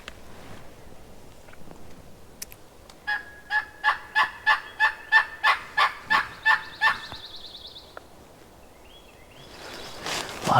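A wild turkey gobbles in the distance, a rapid series of about a dozen rattling, pulsing calls, with quiet outdoor ambience before and after.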